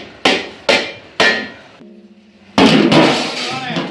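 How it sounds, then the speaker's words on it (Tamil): A metal lid is set down onto a large Dindigul-style biryani cooking pot with three sharp, loud clanks in a row, then a pause, then a longer scraping clatter as it settles. "மூடியை போட்டாச்சு."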